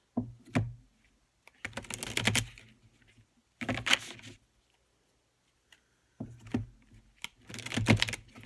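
Slippery tarot cards are shuffled in short riffling bursts, each a quick flurry of crisp flicks separated by pauses. The shuffling is close and fairly quiet.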